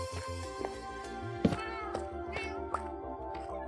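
Cats in the video game Minecraft meow repeatedly, several short tonal mews overlapping at close range over a rhythmic pulsing game background.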